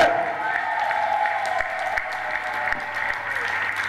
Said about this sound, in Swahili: Pigia Yesu makofi ya shangwe.